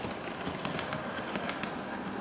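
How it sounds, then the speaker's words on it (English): A model train running past on a model railway layout, giving a close, steady rolling rumble with light rhythmic clicks of the wheels over the track joints. "I'll let this train go past."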